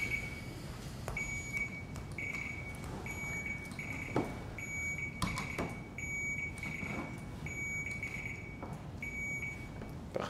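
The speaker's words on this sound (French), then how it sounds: "On va tester vos buzzers." A series of short electronic quiz buzzer beeps sounds one after another at uneven intervals in a quiet room as teams test their buzzers.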